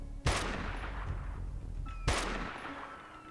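Two sharp gunshots from the video game Dustland Delivery ring out about two seconds apart, each a loud crack over a steady low background hum, with no talking.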